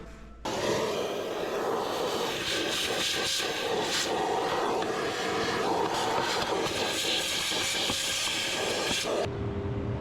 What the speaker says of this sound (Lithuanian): Tai pasiemam sirbliuką.